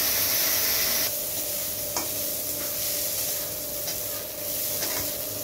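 Steady, close sizzling of panch phoron and radhuni spices in hot oil, a continuous bright hiss with a few faint stirring scrapes and no voices.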